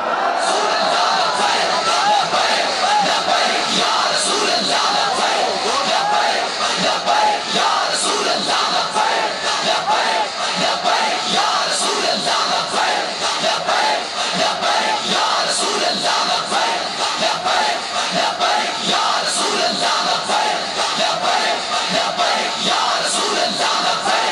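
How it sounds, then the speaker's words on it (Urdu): Large crowd of young children chanting Labbaik slogans in unison at a religious gathering, a loud, continuous mass of raised voices and yells sustained throughout without a break. "ہمارے یہ جو بچے آپ نعرے لگا رہے ہیں نا چھوٹے چھوٹے لبیک کے"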